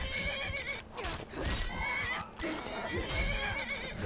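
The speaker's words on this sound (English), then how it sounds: "That horse is so angry." An angry horse in Skyrim neighs and whinnies loudly in a long, shrill, wavering call with breathy snorts, steady and close throughout.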